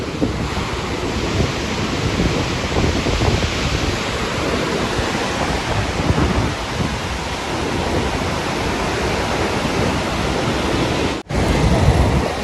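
Water rushes through the gates of Srisailam Dam in a loud, steady roar that fills the whole scene, unbroken apart from a brief dropout near the end.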